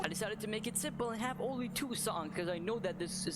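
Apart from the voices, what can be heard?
No everyday noise stands out behind the speech.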